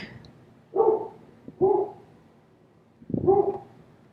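A dog barks three times, with gaps between the barks, at moderate distance against a quiet indoor background.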